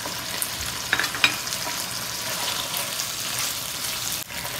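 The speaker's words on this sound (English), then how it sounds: "We are frying this chicken on medium heat." Chicken for a rezala frying in a pan on medium heat with salt and chilies, a steady dense sizzle with a few clinks of stirring near the start, close and continuous with no talking.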